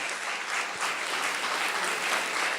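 Sustained applause from a conference audience of architects and urban planners in Rio de Janeiro, a dense, steady wash of many hands clapping throughout with no clear voices over it.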